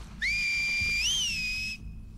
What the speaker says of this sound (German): Pfeift ihr nur.